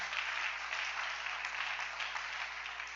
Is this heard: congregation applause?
yes